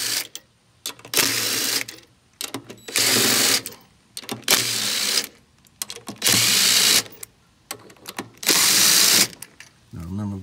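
A power tool whirring in repeated short bursts while removing the six 10 mm stator bolts from a Samsung washing machine, loud close bursts separated by quiet pauses.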